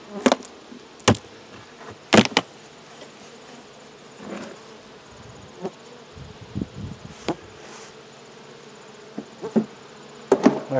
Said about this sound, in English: This has always been the weakest hive.